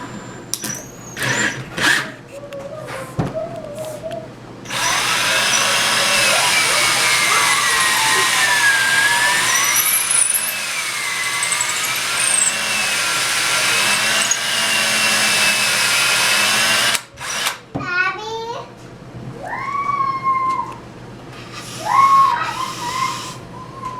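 Power drill boring through a steer's horn with a 3/16 inch bit, a steady loud whirring grind lasting about twelve seconds, bracketed by brief handling knocks and short tonal sounds before and after.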